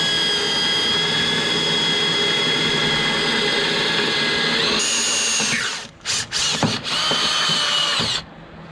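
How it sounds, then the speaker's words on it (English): A power drill drilling a hole while fitting a grass catcher to a Bushranger mower whines loudly and steadily for several seconds, rising in pitch, then stutters with a few short bursts before stopping. "let's drill this hole."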